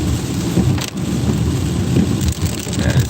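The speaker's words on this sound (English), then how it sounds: "And this rain is coming down," Heavy rain pours down steadily outdoors, a dense, loud and continuous hiss that never lets up for the whole stretch, with no voices over it.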